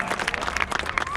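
Dense, steady clapping from a graduation audience, with no single claps standing out and a few faint voices mixed in.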